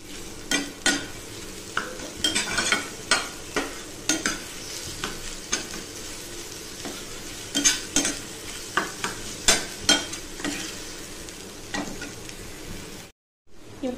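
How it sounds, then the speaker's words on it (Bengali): Mustard paste masala with chopped tomato and turmeric being stirred and fried in a pan for a fish jhal, with steady sizzling and repeated scraping stir strokes, close and alone. "এটাকে ভালো করে মশলাটা কষিয়ে নেব।"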